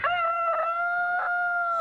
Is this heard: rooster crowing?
yes